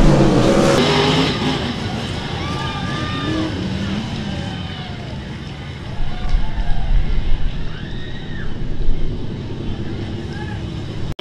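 Wingless sprint cars racing at a dirt-track points race, engines droning loudly in the distance and swelling as they pass, with an announcer talking over the track noise.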